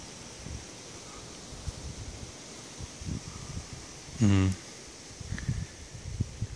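Wind blows outdoors across a small garden of newly planted, still-bare trees in cool spring weather. It makes a soft, gusty rustle that rises and falls, with a brief whistling swell partway through.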